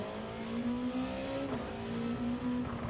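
A touring car engine in Gran Turismo 7 at the Fuji circuit, held in second gear with light throttle, gives a steady, quiet droning whine that rises and falls slightly, with no talk.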